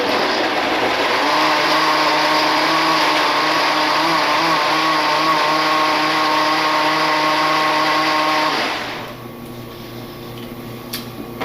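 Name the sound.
blender pureeing oranges and tangerines for marmalade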